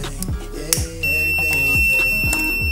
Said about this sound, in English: So when you put fire to this sensor, the yellow light will turn on and the buzzer.